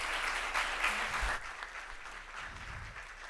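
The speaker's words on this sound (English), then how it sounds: "can we give this group again a large round of applause?" An audience claps loudly and steadily, then the applause gradually thins out and fades.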